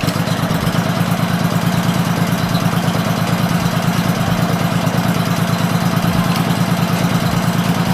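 A vehicle engine idles steadily after a gas reserve light thermistor repair, giving a loud, close, even mechanical throb with a regular beat that holds unchanged throughout.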